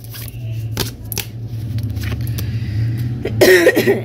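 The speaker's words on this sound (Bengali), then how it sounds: "আমার খুব কাশি হচ্ছে" A person coughs in a short burst near the end over a steady low hum, with a few faint clicks and rustles earlier.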